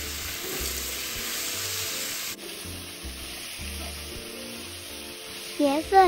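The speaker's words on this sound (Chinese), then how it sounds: "继续拌炒均匀。" Shiitake mushrooms are tossed in a wok with light and dark soy sauce, giving a steady sizzling, rubbing scrape that runs continuously, with a few sharper clanks near the end.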